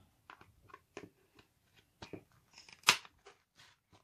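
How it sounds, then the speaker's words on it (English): Tin snips cutting a green piece off a cosplay costume, heard as a scattered series of close, sharp crunching snips of varying loudness, with one louder cut standing out. "So I'm going to use tin snips"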